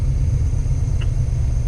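Gen 3 Hemi V8 in a 1970 Dodge Challenger idling cold at about 1,000 rpm after months unstarted, a steady, loud low rumble with even lumpy pulses, close by.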